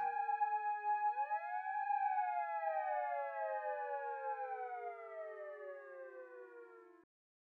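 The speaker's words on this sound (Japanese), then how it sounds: "またサイレンの音。" A siren sounding outside, a wailing tone that rises and then slowly falls in pitch over several seconds, steady and sustained until it cuts off abruptly, heard alone without voices.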